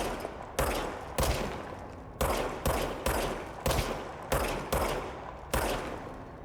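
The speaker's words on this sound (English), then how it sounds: "Now I have a gun. Fire service weapon." Service weapon pistol firing in the video game Control: about nine sharp, loud shots in an irregular but steady rhythm, each decaying with a short reverberant tail, with no talk over them.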